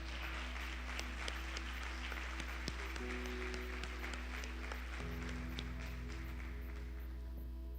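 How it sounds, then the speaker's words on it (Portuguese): Applause from a church congregation during a worship service, a steady wash of many hands clapping at moderate level over a sustained low organ or keyboard drone, with a brief shift in the held chord partway through. "Você pode aplaudir a palavra do Senhor, querido?"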